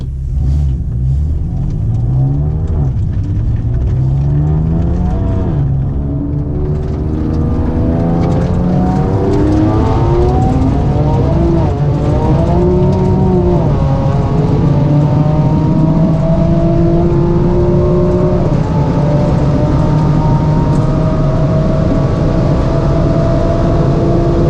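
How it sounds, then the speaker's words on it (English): A powerful 1000 bhp BMW M5 engine roars and revs hard on a dusty road, pitch climbing through gears as the tyres spin in third gear, loud and close throughout. "Massive wheel spin in third gear."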